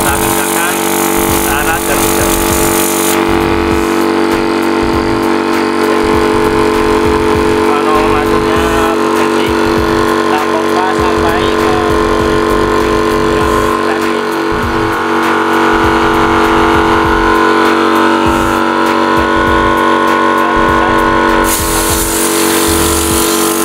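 An air compressor pump fills a PCP Predator Black Army Phantom air rifle, its motor droning loudly and continuously throughout with a steady mechanical hum.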